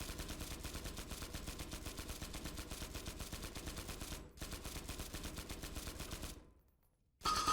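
Rapid automatic gunfire from guns in the SCP video game rattles in dense, continuous bursts with a brief dip partway through. It cuts off near the end before one final loud burst.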